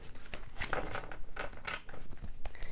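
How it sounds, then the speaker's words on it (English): A deck of tarot cards gets shuffled close up in quick, papery riffling bursts, several short flutters following one another without pause. "But let's do some shuffling."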